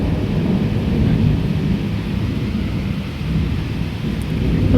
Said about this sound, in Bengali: এই তাল গাছের উপরেই বেশি পড়তেছে ঠাড়াগুলা